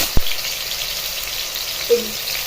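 Soaked moong dal hits hot oil in a pan and gives a steady, even sizzling hiss, with a small click at the start and a brief tonal blip later. No one speaks.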